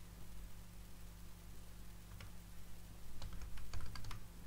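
Clacking keystrokes on a computer keyboard, sparse at first and then a quick run of taps toward the end, close up over a steady background hum with no one talking.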